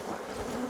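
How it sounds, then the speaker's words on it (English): Honeybees buzz in a soft, steady swarm hum as they are shaken into a hive box while making a split, faint and brief with no talk. "And then I'm going to shake some bees in there."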